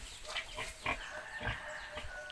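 A pregnant pig grunts softly and irregularly every half second or so over a steady windy background, moderately close and fairly quiet.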